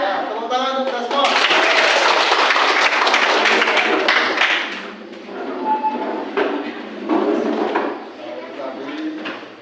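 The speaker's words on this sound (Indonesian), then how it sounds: "tepuk tangan untuk kita semua" A class claps together in a classroom, a loud burst of many hands for several seconds that thins out into scattered claps and shuffling, with a voice speaking briefly at the start and more talk later.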